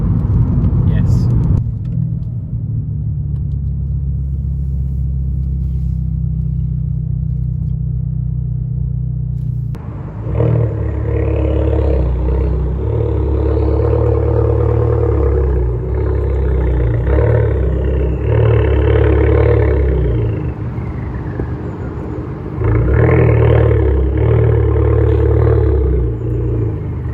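A modified car engine idles with a deep low rumble, then revs up in repeated rising and falling pulls from close by, with people talking over it.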